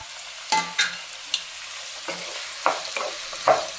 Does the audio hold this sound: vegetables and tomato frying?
yes